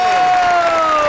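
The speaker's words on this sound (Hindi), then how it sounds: "आपकी बहुत सी तालियों में दी वन एंड ओनली रेशम।" Studio audience of a Pakistani comedy talk show applauding and cheering as a guest is introduced, a loud steady crowd wash with a sustained tone running through it.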